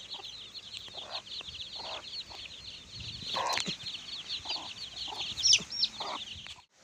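Hens cluck in short bursts over a steady chirping of chicks, close by, with a sharper squawk near the end; no one speaks.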